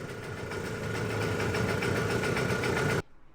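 A 50-year-old Garelli Eureka Flex 50cc moped engine with an idle-adjustment fault idles close up in a steady, even putter with a faint knock, then cuts off abruptly near the end.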